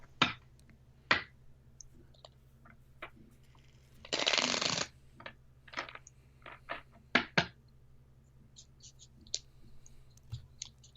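Close, quiet handling of a Lenormand card deck, with one brief burst of riffle shuffling in the middle and scattered sharp card clicks and taps before and after it.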